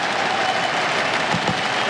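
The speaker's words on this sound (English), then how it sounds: "Rapturous crowd is loving this." A large cricket crowd at an Edgbaston Ashes Test applauds in a continuous, loud roar of clapping that fills the whole moment.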